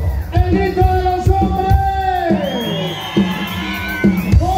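Women in a party crowd shouting and whooping together on cue at a nighttime celebration, a loud, sustained chorus of high yells with rising and falling cries and occasional thumps underneath.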